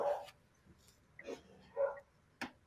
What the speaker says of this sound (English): I don't know why they're barking.